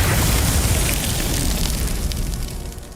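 A Confringo fire spell explodes in Hogwarts Legacy, a loud, dense blast of roaring fire and crackling burst that fills the moment and slowly tails off.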